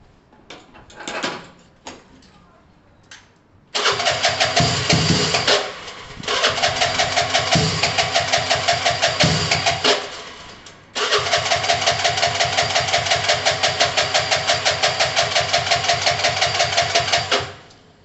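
A Gilera DNA 125 motorcycle engine cranks over a few times, then catches and runs loud and close with a steady, rapid putter. It stumbles and dips once before settling back into a fast idle.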